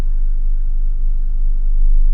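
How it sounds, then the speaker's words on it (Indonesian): An automatic car rolls slowly in reverse, its engine giving off a low, steady rumble with no other sounds. "kita lepaskan rem secara perlahan-lahan, kita mundur pelan-pelan"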